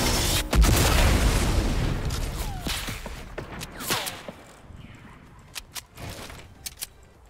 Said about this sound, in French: Oh ça a explosé.